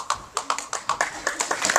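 Short live applause from a small audience at the end of a three wise men play: quick, uneven clapping of hands, moderately loud and close, lasting only a couple of seconds without voices.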